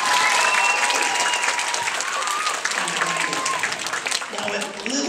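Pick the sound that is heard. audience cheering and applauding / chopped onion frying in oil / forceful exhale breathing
audience cheering and applauding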